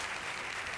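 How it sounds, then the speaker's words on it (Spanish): A brief burst of studio audience applause on a Spanish-language game show, dense and even clapping with no voices over it. "Un aplauso para María Teresa"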